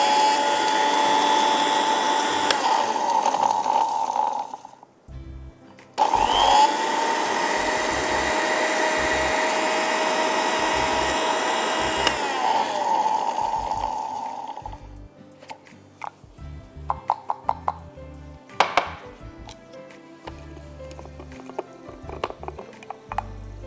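A grinder whirs loudly through achaar masala in two long runs broken by a brief pause, then stops, followed by scattered clicks and handling knocks, close by.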